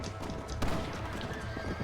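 A horse in Red Dead Redemption snorts and whinnies while hooves clip-clop steadily underneath, close and fairly loud over a constant game background.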